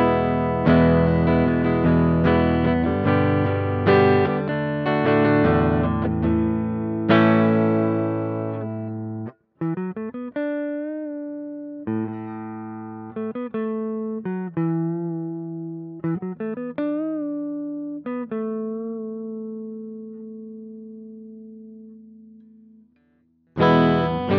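Harley Benton CST-24HB electric guitar played through effects, first dense strummed distorted chords, then sustained single notes and short phrases with bends, loud and alone, ending on a final struck chord.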